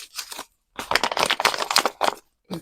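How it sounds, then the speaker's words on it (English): Paper being crumpled and crinkled by hand for a craft cover, bursts of dry crackling rustle up close, stopping and restarting in uneven handfuls. "Give it a bit of a crumple."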